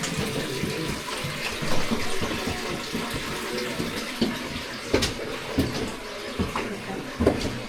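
Water splashing and trickling inside a limestone show cave, a steady wet rush with sharper drips and splashes standing out now and then, fairly close, with faint voices in the background.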